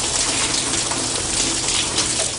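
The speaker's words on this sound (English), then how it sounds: "a fire sprinkler froze and burst, spreading water throughout the high school" Water gushing from a burst, frozen fire sprinkler inside a high school: a loud, continuous rushing spray that fills the whole clip without a break.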